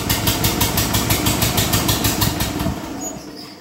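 The engine of a 1948 Ferguson TE20 tractor runs roughly, firing on only a couple of cylinders. It makes a loud, close, uneven chugging with a pulsing beat that holds steady and then fades slightly near the end.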